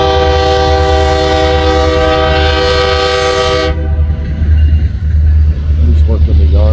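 BNSF locomotive 124, the Wildcat, working the yard in Fremont, Nebraska, sounds a loud sustained horn blast that cuts off midway, leaving engine rumble and voices talking.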